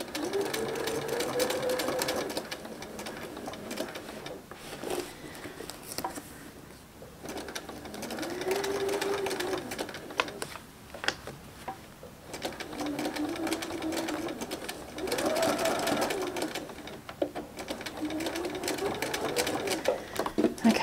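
Domestic sewing machine stitching fabric flowers onto an Anna bag with a grid glider foot, its steady mechanical whir running in long bursts with brief pauses between stitching runs, close and fairly loud.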